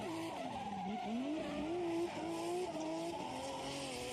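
A drift car slides through the course at Ebisu Circuit West Course in Fukushima during a Formula Drift Japan qualifying run, its tires squealing loudly with a wavering pitch over a continuous engine roar, heard from a distance without a break.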